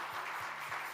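Applause from a church congregation during a Spanish-language sermon, a soft, steady patter of many hands clapping, distant and fairly quiet.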